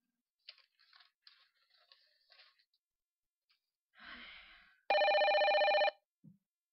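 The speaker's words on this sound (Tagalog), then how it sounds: "Kinsa ka ni nanawag sa telepono?" A telephone bell rings loudly in one continuous burst of about a second, set among soft breathing, sighs and rustling in a quiet room during a radio drama.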